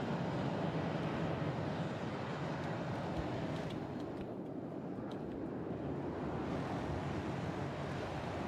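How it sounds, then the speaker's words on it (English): Early jet aircraft flying in on a napalm strike in the real-time strategy game WARNO, a steady broadband roar that fills the whole stretch at constant loudness with no talk. "We've got an early jet coming in with napalm."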